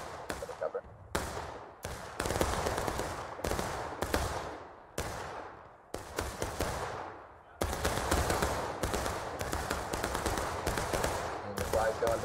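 Massed musket volleys crackle and pop repeatedly across a large Civil War battle in the Maryland Campaign, loud overlapping bursts in irregular waves with brief gaps between them.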